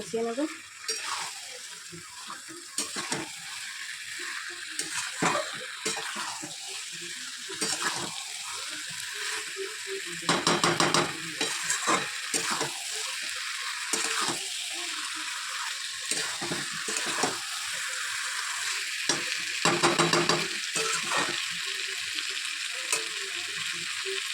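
Food is sautéed in a pan over high heat, a continuous close sizzle with repeated scraping stirs and louder bursts as it is tossed, and no voices are heard.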